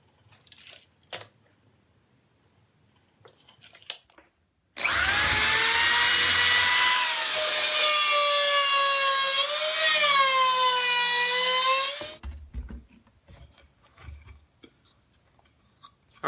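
A router cuts a speaker hole in the wood of a 1x12 guitar speaker cabinet, a loud, steady high-pitched whine held for about seven seconds whose pitch shifts slightly under load, between quiet handling sounds.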